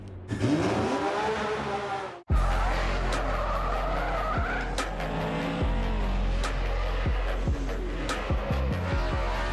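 Drift cars at a Formula Drift Pro round in New Jersey skid hard with loud, sustained tire squeal and roaring engines, the noise cutting out briefly and then resuming with rev bursts and repeated sharp squeals, close and dominant.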